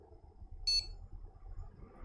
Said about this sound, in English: It seems to be starting a lot easier this time. It beeps straight away.